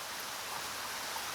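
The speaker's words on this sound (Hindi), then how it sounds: "बारिश रुकने का नाम ही नहीं ले रही थी।" Steady rain pours in an animated Hindi moral cartoon about laborers, a dense, even hiss of downpour that stays constant and fairly loud, with no voices.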